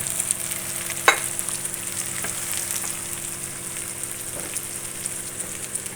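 Brinjal (eggplant) pieces frying in hot oil for a simple masala, a steady loud close sizzle and crackle throughout with one sharper pop early on.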